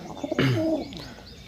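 A pigeon at a pigeon sale gives a single loud, close coo of about half a second, preceded by faint chirps and followed by quieter rustling.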